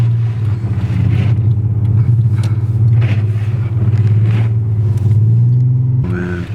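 An Infiniti G37's VQ engine drones at high revs, a loud, steady rumbling hum that shifts slightly in pitch before dropping near the end.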